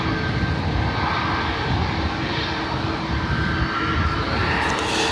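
Airliner taking off from Dublin Airport, a loud, steady, broadband engine roar that fills the whole stretch without a break, heard from fairly close by with no talking.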